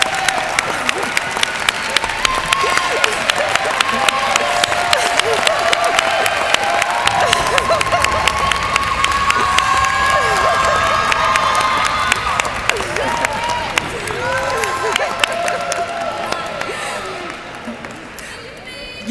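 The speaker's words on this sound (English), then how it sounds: "would all our students please stand up. Let's give them a round of applause." Students at a spring education pinning ceremony at Albany State University stand while the hall fills with sustained applause and cheering. Shouts and whoops rise over the clapping, which stays loud throughout and eases slightly toward the end.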